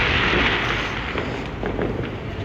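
Small firecrackers, thrown at a wall and the ground, give a few sharp pops over a dense, noisy outdoor background.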